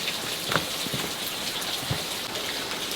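Steady rain falls on a farm field, a constant hiss with scattered heavier drops tapping on surfaces, uniform in level from start to finish.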